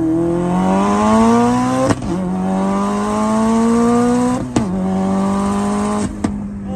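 A Subaru racing a street bike, its engine revving hard through the gears in three rising pulls broken by sharp shift pauses, loud and close throughout.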